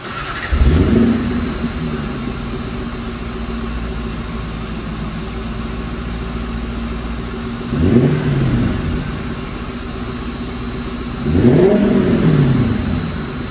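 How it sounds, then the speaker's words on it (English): A big 5-liter 1UZ V8 idles with a low burble, then the exhaust roars in three sharp revs, each rising and falling back to idle. "get that exhaust note off this 5-liter 1UZ."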